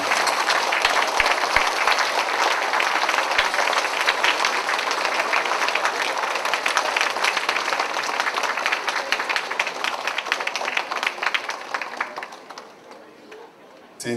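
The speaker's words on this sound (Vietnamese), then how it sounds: "chúng tôi xin mời quý vị cùng đứng lên với một tràng pháo tay thật là nồng nhiệt" A hall crowd at a community fundraiser gives a long standing ovation for Minister Jason Kenney, sustained loud dense clapping that tapers off near the end.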